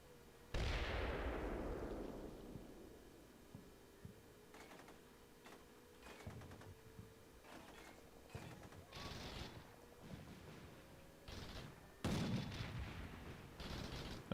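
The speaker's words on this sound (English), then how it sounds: "Someone's shooting." Gunfire in the war game Combat Mission: Shock Force 2 during an ambush near a town: scattered sharp shots and short bursts crack at varying distances, with a low tone droning between them.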